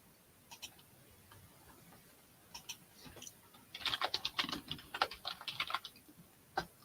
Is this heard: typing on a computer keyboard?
yes